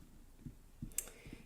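A computer mouse clicks quietly a few times in short, soft, close taps over faint room hiss.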